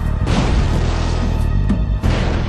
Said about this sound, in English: The investigators carry out a series of computer simulations and experimental explosions, seen here.